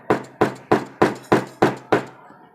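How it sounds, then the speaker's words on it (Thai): A hammer taps steadily to mark points before drilling, seven evenly spaced, close knocks with short decays, alone and unhurried. "ผมจะใช้วิธีการ ตอกแบบง่าย ๆนะครับตอกค่อยๆไป"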